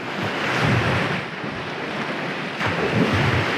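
Surf rolls onto a Lake Michigan beach at Grand Mere, a steady broadband wash of breaking waves with gusting wind buffeting the microphone, swelling again near the end; no one speaks.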